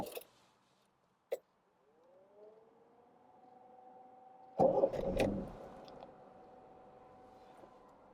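A Rover SD1 (Rover 2600) is started: a key click, then the starter whirrs and rises in pitch before the engine catches with a brief roar and settles into a quiet, smooth, steady idle, heard close with no talking.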